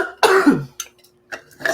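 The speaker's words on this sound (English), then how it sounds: "Excuse me, I still have a cough." A woman clears her throat harshly and coughs once, then adds a couple of short, lighter coughs, loud and close in an otherwise quiet room.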